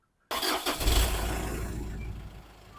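A car engine cranks and catches with a Topdon JS1200 lithium jump starter attached, a sudden loud start that settles into a steady idle and fades slightly at the end, with no talking.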